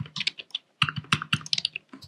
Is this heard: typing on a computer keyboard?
yes